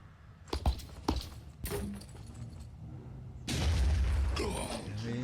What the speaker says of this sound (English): We're just going to do another random grenade in there because we can.